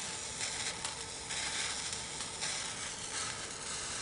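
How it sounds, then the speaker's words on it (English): Sauce boiling and reducing in a pan, a continuous dense bubbling hiss and sizzle heard up close, steady without pauses and with no voices. "by letting it boil for a bit, you can also reduce it to make it thicker and slightly more syrupy"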